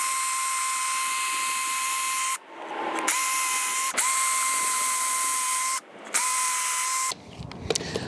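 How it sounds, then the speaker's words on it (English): A power drill runs loud and steady drilling holes in wood, pausing twice briefly before spinning up again, then ending in a clatter of handling noise. "I'm just gonna drill two holes just like that."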